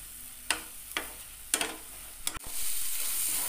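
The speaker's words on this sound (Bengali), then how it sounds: "এবার খুব ভালো করে কষতে হবে। গ্যাসের ফ্লেমটাকে আমি ফুল করে দিয়েছি।" Soybean bharta mash stir-fried in a pan over a full gas flame: four sharp spatula scrapes and knocks at a steady pace over a soft sizzle, then a louder, steady frying hiss, close up.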